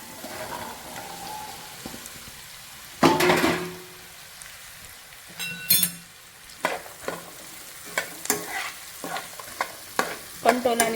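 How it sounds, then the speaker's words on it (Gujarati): Spiny gourd (kantola) stir-fries in a pan for a monsoon vegetable dish, with a soft steady sizzle and irregular scraping clatters of a spoon stirring against the pan, close up, with no speech. "હવે એમાં કંટોલા એડ કરી દઈશું આપણે।"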